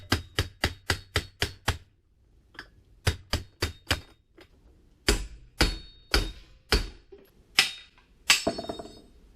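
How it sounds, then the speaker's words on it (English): A hammer strikes repeatedly to drive a worn wheel bearing out of a 7th-generation Honda Civic front steering knuckle held in a vise, sharp metallic blows landing in quick bursts of several hits separated by short pauses. "We're just gonna hammer it out."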